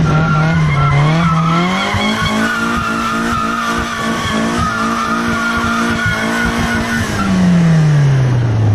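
A Miata-powered kart spins donuts on blacktop, its tires squealing loudly and continuously while the engine holds a high, steady drone that rises and then falls away near the end, recorded up close.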